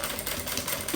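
A sewing machine stitches the bottom of a handbag closed, a fast steady mechanical chatter, close and uninterrupted.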